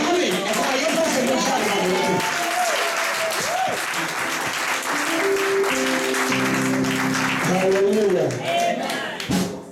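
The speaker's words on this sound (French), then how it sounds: "Sans perdre du temps, on va applaudir." Audience applause at a church inauguration in France, steady clapping from a crowd throughout, with voices and some music-like tones mixed in over the top.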